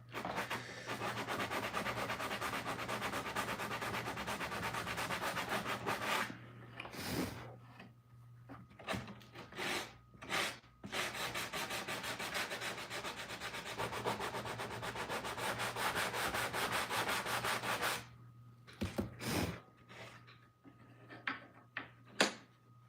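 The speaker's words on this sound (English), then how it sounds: "It does need a little bit more sanding, but I don't think 220 is going to do that decent of a job." Hand sanding of wood with 220-grit sandpaper in a woodworking shop, steady scratchy rubbing strokes in long continuous runs broken by short pauses and a few quicker passes, close and fairly quiet.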